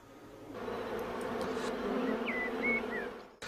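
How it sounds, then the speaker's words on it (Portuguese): Honey bees buzzing around the entrance of their hive, a steady close droning hum lasting the whole clip, with a few higher passing whines as individual bees fly near. "Impacientemente as abelhas esforçam-se para entrar na colmeia, para se libertarem da carga que trazem, o néctar."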